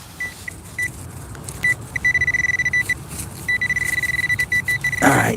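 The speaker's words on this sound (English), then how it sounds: "I'm gonna grab the pinpointer" A metal detecting pinpointer beeps close by in short pulses, then a long steady tone, then a quick stuttering series of beeps, all against soft outdoor background noise.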